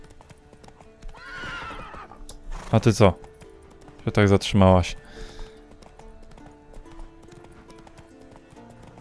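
Glitched horse riding head-down in The Witcher 3, its hooves giving bursts of quick clip-clops with a whinny among them, loud and close, while a voice talks over the game audio.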